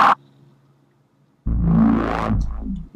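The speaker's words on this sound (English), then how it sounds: "So right here we have these samples that I labeled bass hits." A short dubstep bass hit sample heavily treated with multi-band distortion, a single loud gritty burst after a faint tail and a pause, with a brief swelling, sweeping top end before it cuts off.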